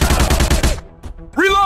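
Rapid burst of game gunfire in Counter Terrorist Strike 2020, an Android shooter, loud and close for under a second, then a brief gap and a short voice.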